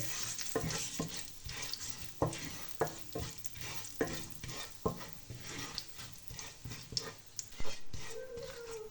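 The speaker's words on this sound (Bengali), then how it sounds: "ওই তেলেই তেজপাতা, শুকনো লঙ্কা, গোটা জিরে ফোড়নে দিয়ে দিচ্ছি" Bay leaf, dry red chili and whole cumin sizzle in hot oil, a continuous crackling fry punctuated by regular sharp scrapes of a stirring spoon against the pan.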